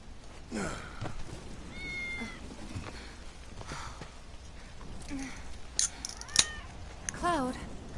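A cat meows several times in the Final Fantasy VII Remake video game, with short, rising cries near the end, heard quietly among game effects and voices.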